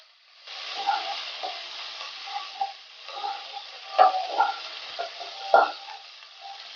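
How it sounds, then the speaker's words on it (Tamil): Mustard seeds, curry leaves, onion and green chilli fry in hot oil with a steady, nearby sizzle, broken by scattered crackles and scraping stirs at a moderate level, with no speech. "கடுகு நல்லா பொரிஞ்சதும் ஒரு இன்னும் கருவேப்பிலை, கட் பண்ண வெங்காயமும் அதிலே போட்டுக்கலாம்"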